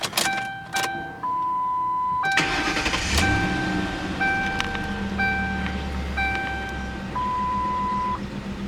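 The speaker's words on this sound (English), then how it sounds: "Let's go ahead and fire her up." 2009 Ford Crown Victoria Police Interceptor started with a key: warning chimes beep, the starter cranks and the engine catches, then settles into a steady idle while the chimes continue.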